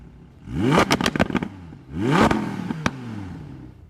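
Combustion engine revving in two strong bursts, each rising sharply in pitch with rattling clatter before dropping away, loud and close, no voices.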